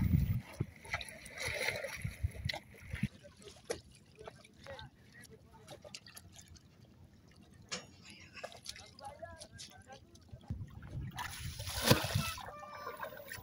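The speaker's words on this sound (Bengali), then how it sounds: "এদিকে আমি একটা কম্বল ধুইতেছি" A blanket being washed in a river, with sloshing water, splashes and trickling throughout, louder bursts of splashing near the start and end, and people talking over it.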